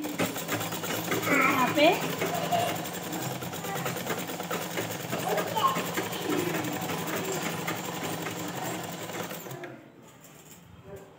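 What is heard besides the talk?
sewing machine stitching a blouse lining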